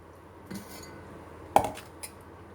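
A metal spoon clinks sharply against a cake tin while batter made with Eno is transferred into it; a soft knock comes first, then one bright clink and a fainter tap, with quiet in between.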